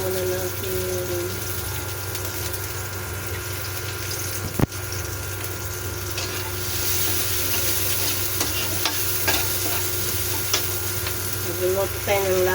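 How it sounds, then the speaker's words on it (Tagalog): A large batch of onions sautés in a pan for laing with shrimps, giving a continuous sizzle with occasional stirring scrapes and one sharp knock. "Maraming sibuyas para mabango. Ayan guys, igisa muna natin."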